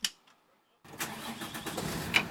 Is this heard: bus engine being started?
yes